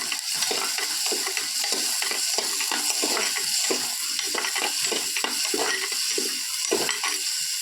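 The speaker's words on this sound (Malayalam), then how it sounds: "നമുക്കൊരു തക്കാളി ഇട്ട് കൊടുക്കാം. എല്ലാം കൂടി നന്നായിട്ട് ഇളക്കുക." Tomato sizzling and frying in a hot pan while being stirred, a steady dense crackle with repeated scraping strokes of the spoon, close and continuous with no talking.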